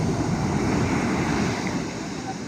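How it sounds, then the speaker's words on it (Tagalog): Strong sea waves rolling and crashing against the shore, a loud continuous roar of surf with heavy wind noise buffeting the microphone throughout. "Grabe guys, ang lalakas ng alon"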